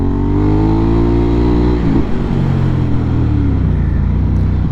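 A Ducati Hypermotard motorcycle engine runs loud and close, its steady rough drone climbing in pitch, dipping briefly near the middle, then settling back into a strong, even rumble.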